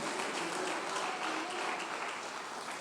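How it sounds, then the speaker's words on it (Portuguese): Congregational applause during a church sermon, a steady wash of many hands clapping heard at some distance and fairly faint, with no clear speech over it. "as palmas para Ele"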